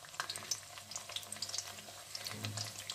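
Hot oil frying in a pan with a steady bubbling crackle and scattered bright pops, close and moderately loud, no voices.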